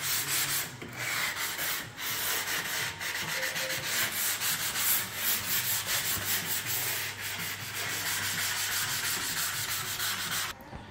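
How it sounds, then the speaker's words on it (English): Sandpaper is worked over an oak staircase in renovation, a continuous close rasping scrub with steady rhythmic strokes and a few brief pauses, no voices. "by using a sandpad or sandpaper, very important part, just try to remove all the marks and imperfections"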